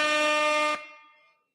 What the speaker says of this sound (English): But we got an air horn